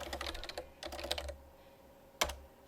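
Typing on a computer keyboard while entering a command, two quick runs of close key clicks followed by a single sharp keystroke, with no voice.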